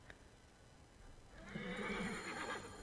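A horse in the game Assassin's Creed Origins whinnies loudly in the second half, a rising, wavering neigh with faint hoof clip-clop, after a quieter ambient stretch with no talking.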